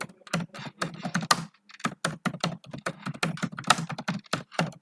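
Fingers typing on a computer keyboard, a near, crisp run of irregular clicks and key taps in quick bursts with brief pauses, alone without voices.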